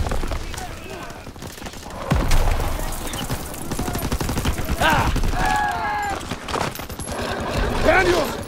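Rapid gunfire and bursts of machine-gun fire rattle through a World War II battle in the Call of Duty WWII PC mission "Collateral Damage". Loud, close volleys run continuously under shouted voices.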